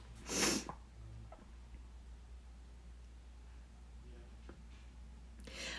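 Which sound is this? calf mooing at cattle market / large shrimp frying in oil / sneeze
sneeze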